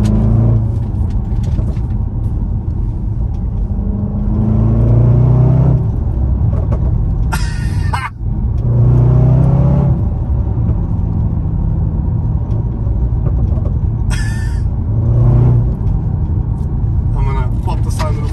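A loud SUV engine roars steadily while driving, a deep constant rumble with a couple of surges that swell then drop, and people talk over it inside the cabin throughout.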